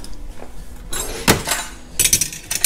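Metal wrenches clink and clatter as they are picked up one after another while working on a Ford Raptor, giving a few bright, close metallic knocks and jingles.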